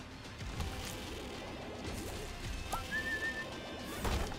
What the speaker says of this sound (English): I like how he does a different whistle